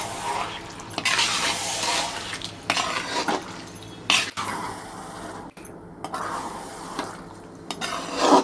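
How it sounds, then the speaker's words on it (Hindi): Prawns being stirred into masala in a pan for prawn dum biryani, giving a steady scraping and clinking of a spoon against the pan over a soft sizzle, close and moderately loud, with no talking. "अच्छे से मिला लेंगे इसमें मसाले में।"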